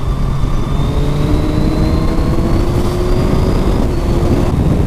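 Suzuki Hayabusa 1340cc motorcycle accelerating while overtaking, a loud continuous engine drone with rising pitch, mixed with heavy wind rush from the rider's position.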